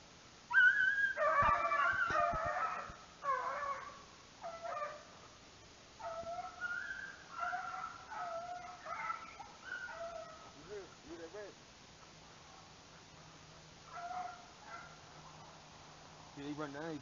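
Hunting dogs baying as they run a rabbit: a pack of drawn-out, wavering howls and yips rising and fading in repeated bursts, heard from some distance outdoors.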